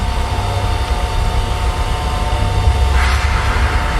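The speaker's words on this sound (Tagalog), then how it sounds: "Bakit nakabukas ang blower na to?" A hair dryer blows with a continuous loud whooshing hum and steady whine, unchanging throughout, with a brief brighter rush near the end.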